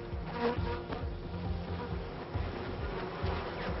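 Honey bees buzz steadily around flowers, a continuous close droning hum that rises and falls slightly in loudness, alone and fairly quiet throughout.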